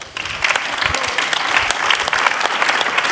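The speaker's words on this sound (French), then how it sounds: "Donc je propose d'applaudir Marc Benoun." An audience at the 2023 Académie ceremony applauds Marc Benoun: loud, full applause starting almost at once and holding steady, with sharper individual claps standing out through the wash.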